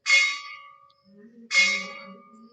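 A bell is struck twice about a second and a half apart, each a bright metallic clang that rings out and fades, loud and alone in a quiet room.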